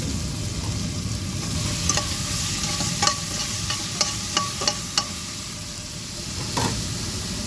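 Tomato masala with salt sizzles in a pan for a fish masala while a spoon stirs it, a constant frying hiss broken by several scraping knocks against the pan, close and loud with no talk.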